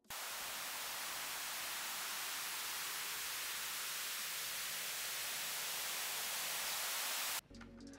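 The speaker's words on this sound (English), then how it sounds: "a bunch of white noise" A loud, unbroken hiss of white noise runs for about seven seconds, then cuts off abruptly into a brief, quieter different sound.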